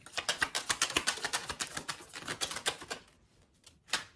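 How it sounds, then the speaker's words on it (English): Rapid clattering of tarot cards being shuffled, a dense run of crisp snaps for about three seconds, then a pause and one final riffle. "So as I'm shuffling"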